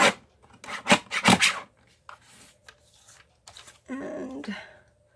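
Watercolor paper being trimmed by hand, giving a few loud, close rasping strokes in quick bursts, then quieter scraping and a short papery rustle near the end.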